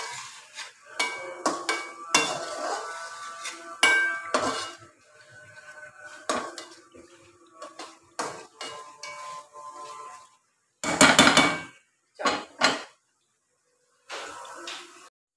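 Nihari is being stirred and browned in masala in a pot over a low flame, heard as repeated close metallic scraping and clanking of a spoon against the pot, in irregular bursts with short silences between.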